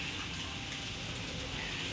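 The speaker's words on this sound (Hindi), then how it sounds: "देखो ये है बारिश" Rain falling outside a home, a dense, steady hiss of drops that continues evenly and fairly close for the whole short stretch, with no voices over it.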